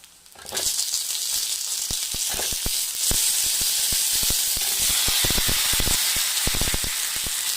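Tomatoes and shallots sautéing for a mutton gravy, a loud continuous sizzle and hiss starting abruptly, with scattered pops and clicks of a spoon stirring in the pan throughout.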